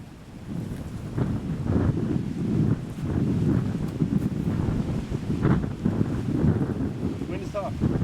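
Wind gusts buffet the microphone on an exposed disc golf course during a practice round, a steady low rumble filling the whole stretch with brief louder surges and faint voices beneath it.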